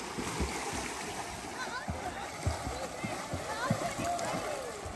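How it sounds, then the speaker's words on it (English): Children splashing across a family swimming pool at a resort: repeated rhythmic splashes under adult voices shouting encouragement. "They splashing the whole pool."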